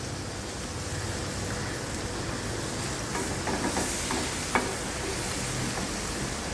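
Chopped onion hits a hot pan and sizzles in a steady, even hiss that stays close and constant throughout, with no voices.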